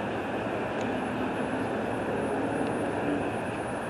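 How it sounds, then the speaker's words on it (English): An airplane taking off near Las Vegas on a stormy day, a steady broadband engine roar that stays loud and constant throughout, with no voices. "Airplane's taking off."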